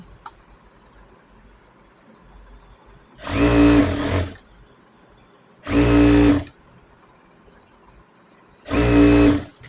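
A sewing machine stitches an old saree in three short, steady bursts of whirring, each about a second long, with quiet pauses between them and no talking.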